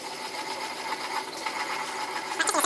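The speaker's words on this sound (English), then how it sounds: "just get some of your copper sulfate and then grind it down" Copper sulfate crystals being ground down by hand, a close, steady gritty scraping and rasping that runs continuously and grows slightly louder at the end, with no talking.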